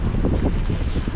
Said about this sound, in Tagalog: Tinatangay ng hangin yung aking payong.